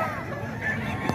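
Gamecock roosters from Tarlac gathered in a yard give a brief, faint cluck and squawk over a low murmur of background noise.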